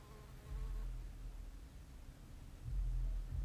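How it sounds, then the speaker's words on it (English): A housefly buzzes steadily close by, a continuous low drone that swells louder toward the end. "Yeah, it's a fly."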